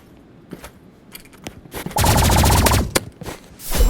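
Energy pistol fire in the Roblox game Rivals: scattered single shots give way to a dense, rapid burst of loud zapping gunfire near the middle, then more shots at the end.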